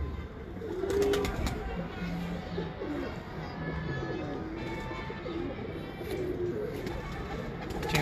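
Pigeons cooing close by, with soft repeated coos and throaty warbles over a steady background, among breeder pigeons kept by a fancier.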